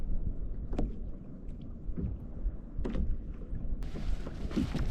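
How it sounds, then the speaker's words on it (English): Wind gusts buffet the microphone during a kayak fishing trip for cod, a low constant rumble with splashes and bumps against the boat hull, close and fairly loud, without talk. "Well, that wind's certainly picking up."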